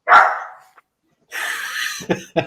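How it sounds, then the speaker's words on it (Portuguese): A dog barks close by with sharp, loud barks, one at the start followed by a burst of barking and two quick yips after a short gap. "Desliga o cachorro."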